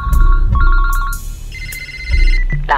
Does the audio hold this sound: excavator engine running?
no